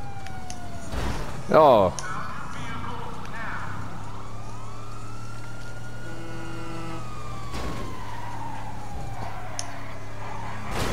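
Police car sirens wail and sweep during a chase in Grand Theft Auto V, a steady rising and falling tone over engine rumble, with a brief loud burst and a short exclamation early on.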